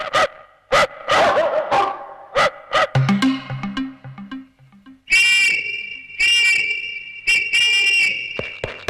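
A dog barks in a Telugu comedy film scene: a run of sharp, loud barks opens, then yelps mix with a musical passage, and several bright whistling bursts follow.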